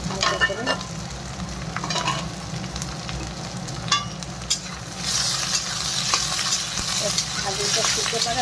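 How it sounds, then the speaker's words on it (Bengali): Potatoes and onions fry in a pan with a steady sizzle, broken by clattering utensil scrapes and stirring knocks; the sizzle swells louder toward the end. "এখন আমি এই পেঁয়াজের মধ্যে দিয়ে দিচ্ছি এই যে আলুটা একটু ভেজে নিই"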